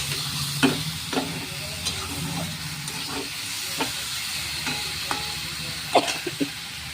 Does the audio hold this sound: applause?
no